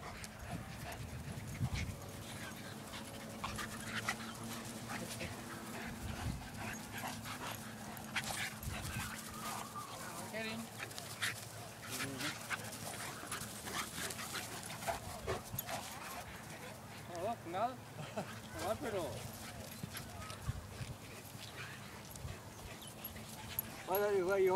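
A dog pants and whimpers with small yips throughout a long stretch, close by, while people talk and laugh over it during rough play.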